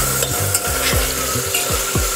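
Tomatoes sautéing in a pan with salt, a steady sizzle broken by repeated scraping stir strokes from a spoon, close and fairly loud, with no voices.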